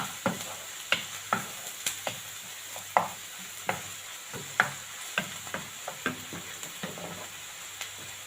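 Ingredients fry gently in a pan over a low hiss, punctuated by a regular series of sharp taps and scrapes from stirring, close and fairly quiet.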